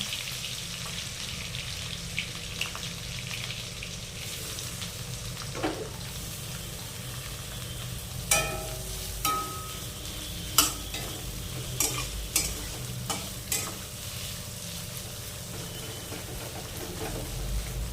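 Chopped onion frying in hot oil with ginger, panch phoron-style seeds and black cumin, a soft steady sizzle broken by several distinct scraping stirs of the spatula in the pan, close by and with no voices.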